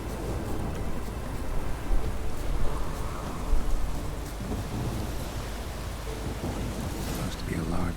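Rain falls in the video game The Witcher 3: Wild Hunt, a steady, dense patter and hiss with low rumbling swells that suggest distant thunder. It carries on continuously at moderate loudness for several seconds.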